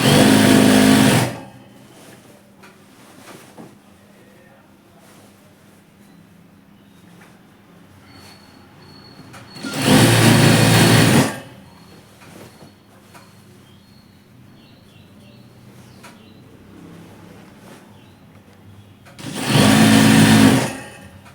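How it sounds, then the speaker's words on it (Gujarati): Sewing machine running straight stitches around the waistband of capri trousers, in three loud separate bursts of about a second each with quiet pauses between them and no talking. "ચાંપનું દબાઈ લઈ સીધી સિલાઈ મારી દેવાની, આખા રાઉન્ડમાં સિલાઈ મારી દેવાની."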